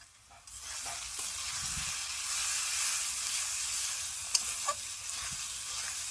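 A chicken curry with ol kochu and potato, dosed with turmeric and a little sugar, fries in a pan with a loud, continuous hiss, while a spoon stirs it with a few scraping knocks.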